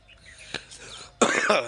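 One loud, harsh cough from someone with a cold bursts out close by after a quiet stretch holding a softer catch of breath.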